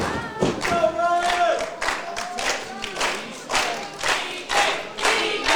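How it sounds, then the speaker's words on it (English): A wrestling crowd in Dayton, Texas cheers and claps for Bryan Keith, loud and rhythmic with pulsing chants and thuds, a dense near crowd roar with rising and falling waves. "Listen to this crowd here"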